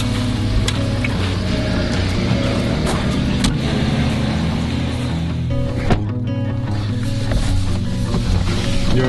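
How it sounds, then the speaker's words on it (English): A car drives along a rural road in Iowa, its steady engine and tire rumble filling the cabin throughout, with a few faint clicks and a brief bump partway through. "Driving down the road that I grew up on once again."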